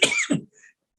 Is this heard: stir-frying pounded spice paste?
no